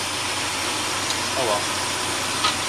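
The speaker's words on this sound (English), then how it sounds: "It's a little bit of hiss that I'm not used to" Faint steady intake hiss from a running car engine fitted with a Volant cold air intake, heard alongside a low idle, with a brief spoken remark partway through.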